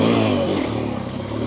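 GasGas EC 500 enduro motorcycle accelerating toward a jump, a loud close engine rising in pitch and revving hard for about a second and a half.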